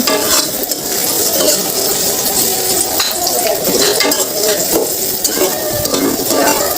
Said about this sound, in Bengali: এখন এটা ভালোভাবে নাড়ব ব্রাউন কালার হওয়া পর্যন্ত নাড়া লাগবে